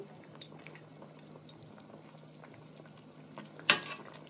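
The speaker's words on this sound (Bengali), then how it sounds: "তরকারিটা আমি 2-5 মিনিটের জন্য মানে ফুটতে দেব" Fish curry with small chela fish, eggplant and potato bubbling in a pot, a soft, low, steady simmer with faint patters and one louder clink or splash near the end.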